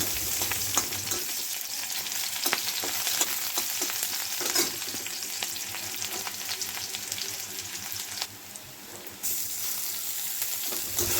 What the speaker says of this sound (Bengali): এখন আমি পেঁয়াজ দিয়ে দেব পেঁয়াজ কুচি পেঁয়াজ কুচিগুলি কুচিগুলি ভালোভাবে ভাজা ভাজা হয়ে গেলে